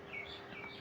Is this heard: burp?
no